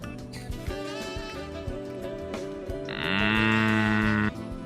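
Cow mooing in a sustained, nasal call that rises partway through and holds loud over a steady, layered background of harmonic tones.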